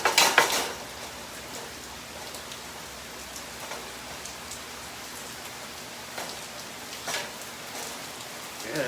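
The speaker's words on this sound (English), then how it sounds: "this rain is really coming down here today" Heavy rain pours outside near a kitchen where veal schnitzel is being fried, a steady soft hiss of falling drops with a brief louder clatter at the start and occasional spatters.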